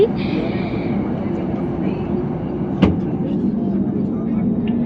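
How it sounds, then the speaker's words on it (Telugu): A steady low rumble of an airplane rolling slowly fills the scene, with a single sharp click partway through and a faint tone above it. "స్లోగా విమానం అయితే కదులుతుంది"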